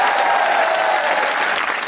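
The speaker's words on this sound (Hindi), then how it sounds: "तालियां बजाइए" A studio crowd at a comedy talk show breaks into continuous, loud applause, a thick wash of clapping that holds steady throughout.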